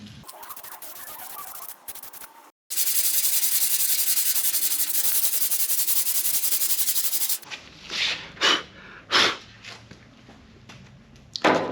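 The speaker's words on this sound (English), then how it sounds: "I'll start going over this with the board, sanding block, and we'll find some more highs and lows" A sanding block is rubbed back and forth over a primed car fender on a Firebird, with loud continuous scraping strokes at close range, then a series of shorter separate passes.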